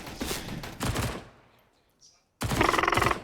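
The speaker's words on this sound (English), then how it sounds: "Oh, little spray exchange there over towards long." Automatic gunfire in a Counter-Strike match trades back and forth in rapid bursts, loud sprays broken by a short lull, with faint game ambience between.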